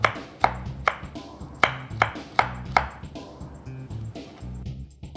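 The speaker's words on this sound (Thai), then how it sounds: "เราจะซอยให้เป็นเส้นครับ" A knife cuts cucumber skin into thin strips on a board for tuna barley sushi, producing regular sharp chopping taps about twice a second, close and crisp, with no talking.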